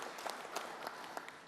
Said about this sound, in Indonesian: Kita berikan tepuk tangan yang meriah buat beliau